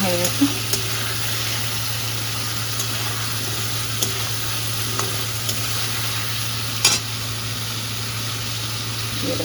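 Masala for a mixed vegetable curry frying in oil and being stirred, a low steady sizzle with a constant hum and occasional scraping clicks, close and moderate.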